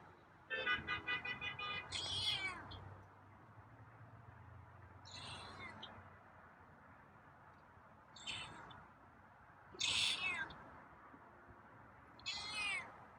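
A feral cat meows several times at irregular intervals, close by, each call drawn out and plaintive, with quiet gaps and faint background noise between.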